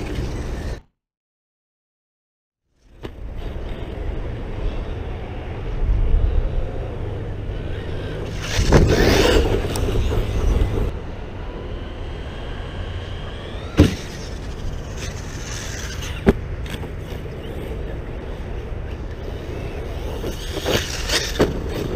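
An ARRMA Kraton 6S RC car with a worn, bad-sounding differential drives outdoors, a steady loud motor-and-drivetrain whir with a brief silence near the start, a surge midway and a few sharp knocks, light voices underneath.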